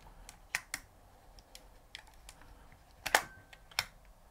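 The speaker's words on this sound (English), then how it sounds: "I personally just fire off one or two shots, making sure that the film is fully wound into the spindle" A Nikon F3 film camera shutter firing and the film advance lever being worked, giving a series of sharp mechanical clicks and snaps spaced irregularly, with a louder cluster of clacks near the end.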